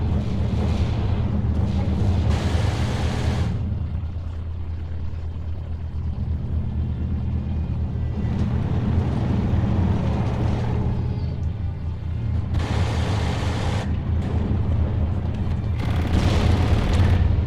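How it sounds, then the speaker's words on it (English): An off-map artillery barrage pounds the field in Steel Division, heavy booming blasts arriving in waves over a continuous low rumble, several loud bursts spread across the stretch. "taking advantage of the off-map artillery which just deployed"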